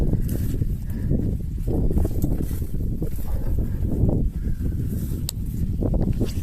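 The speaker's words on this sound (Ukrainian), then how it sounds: "знаю, що вам чути вітер" Steady wind buffeting and roaring across the whole clip, loud and close, like gusts hitting a microphone outdoors, with no voices.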